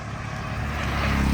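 Auto rickshaw driving past on Holkar Bridge in Pune, a rising engine rumble that grows louder and closer toward the end, without talk.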